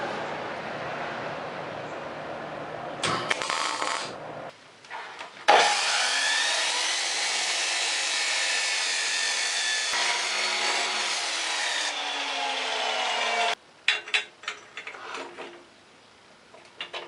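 A custom 4-into-1 motorcycle exhaust pipe is cut just past its flare: a loud, steady abrasive cutting roar holds for about eight seconds, flanked by shorter bursts and scraping handling noises, with no talking.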